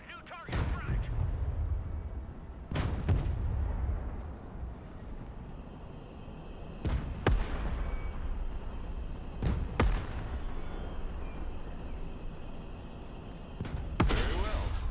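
M1 Abrams tank firing its main gun in the video game Broken Arrow, set in a Soviet invasion of Europe: five heavy booming cannon shots spaced a few seconds apart over a continuous low rumbling battle bed.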